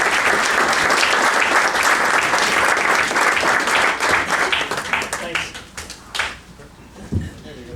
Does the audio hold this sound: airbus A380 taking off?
no